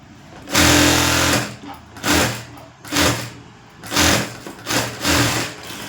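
A sewing machine stitches the lining into a blouse, running in loud close bursts: one long run, then four shorter runs separated by brief pauses.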